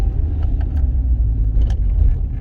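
Steady low engine rumble of a Rover car running at a constant pace, close and continuous with a few faint higher clicks over it.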